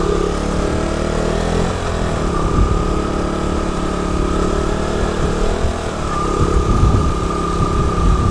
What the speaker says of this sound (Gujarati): ગરમ કરવું પડશે બાઇકને અત્યારે આંચકા મારી રહ્યું હતું બાઇક